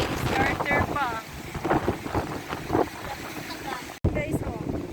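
Strong wind buffets the microphone at the Port of Dipolog City amid strong waves, a loud continuous roar with voices talking over it throughout.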